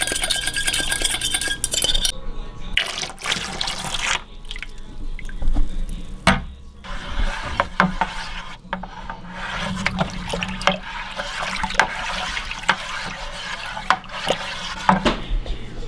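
Peanut butter flavoring and priming sugar are stirred into home-brewed peanut butter brown ale, giving intermittent scraping, clinking and liquid sloshing from a spoon working in a container for about sixteen seconds, with no speech.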